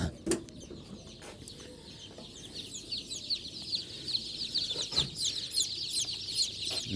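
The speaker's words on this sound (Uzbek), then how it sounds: "Andijon qora jo'jalarimiz xudo xolasa chiqishda boshladi." Newly hatched Andijan black chicks emerging in an incubator, chirping in rapid high peeps that grow busier and louder, with a few soft clucks and knocks close by.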